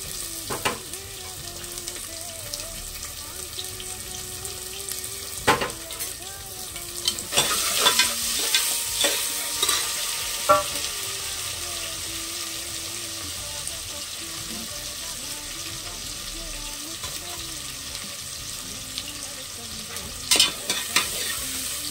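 Chopped onions sizzle and fry in a pressure cooker for mint rice, a steady close crackle with occasional stirring scrapes and clatter throughout.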